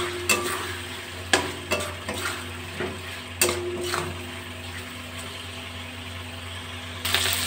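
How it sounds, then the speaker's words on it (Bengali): Fried potatoes and pointed gourd stirred into spices in a pan, a soft continuous sizzle broken by several sharp scraping strokes of a spatula near the start, then the frying carries on alone. "ভাজা আলু পটলগুলো মশলার সাথে ভালো করে কষিয়ে নেব।"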